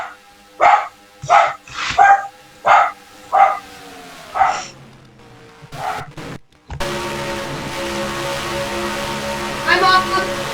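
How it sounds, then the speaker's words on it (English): Several sharp dog barks come in a spaced series, loud and close, then give way to a steady hum of engine and race noise. "my dog's barking."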